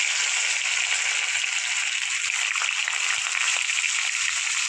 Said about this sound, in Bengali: তো চলুন আলুগুলো দিয়ে আসছি